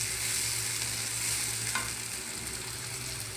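Tomato fries with onion in a pan for an avalakki and fenugreek-leaf dish, giving a loud, continuous close-up sizzle with light stirring and no voices.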